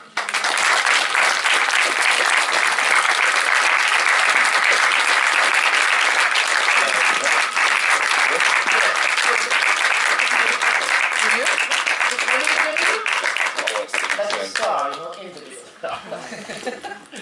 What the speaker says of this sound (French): Merci d'applaudir Monsieur Joel Edgerton.